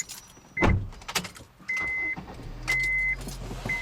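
A 2012 Honda Fit Sport with an automatic transmission starts up with a short low thump, then settles into a steady low idle hum while repeated electronic chimes sound from the cabin.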